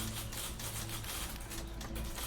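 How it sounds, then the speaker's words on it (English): Rapid typewriter clacking in the game The Beginner's Guide, a dense, continuous chatter of key strikes from many machines, loud and close with no talking. "So many typewriters."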